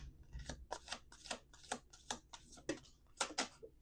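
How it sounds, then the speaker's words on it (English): Tarot cards being shuffled by hand, a series of crisp, papery riffles and flicks in an irregular rhythm, fairly close and quiet, with no talking. "Last shuffle."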